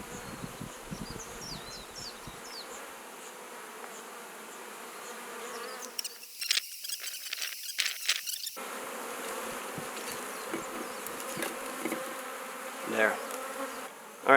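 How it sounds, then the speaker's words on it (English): A captured wild honey bee swarm buzzes around its hive in Hawaii, a constant close insect drone with individual bees zipping past, broken midway by some rustling and knocking. "Most of the bees are inside, the others have to figure out."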